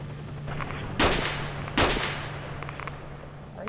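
Two sharp, loud gunshots in a video game ring out less than a second apart, followed by quieter ambient game sound with no talking.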